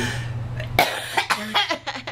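A sharp cough bursts out, followed by several smaller rough coughs and throat sounds in quick succession, close by.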